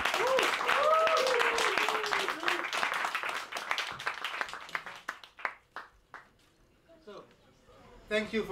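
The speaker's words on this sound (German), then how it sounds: "Einen großen Applaus für Didi." Applause from the audience at a cryptocurrency meetup bursts out loud and dense, then thins into scattered claps and fades, with voices talking over the start.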